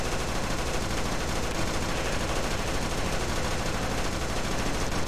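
AK-47 fire in the game Boris Russian Bear, a dense, continuous automatic rattle that stays loud and unbroken throughout, close and harsh with no pauses.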